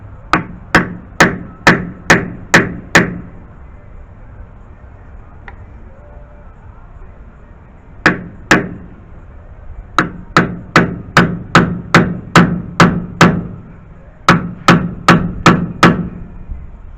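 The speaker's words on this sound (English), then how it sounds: "I'm going to get the seal, and I'm going to get the hammer." Hammer tapping a new oil seal into the rear axle housing of a 2WD Chevy Silverado / GMC Sierra during a wheel bearing replacement: close, sharp metallic taps in quick bursts of five to eight, separated by short pauses.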